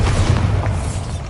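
Bombarda spell detonating in the video game Hogwarts Legacy, a loud dense booming blast with a rumbling low end that fills the short moment without any speech.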